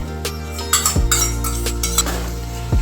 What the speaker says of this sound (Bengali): এবার টক দইটা এই আলু মশলার সাথে মাখিয়ে নিচ্ছি মিক্স করে নিচ্ছি